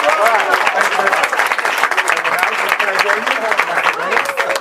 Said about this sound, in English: Give Sherry a big round of applause.